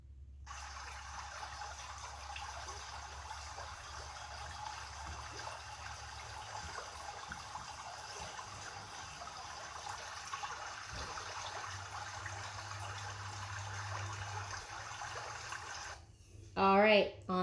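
Continuous rush of running river water, steady and fairly close, played for a children's camping-themed yoga class; it ends abruptly, followed by a brief burst of children's voices.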